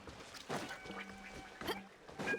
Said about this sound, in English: Is that the bird that I'm hearing?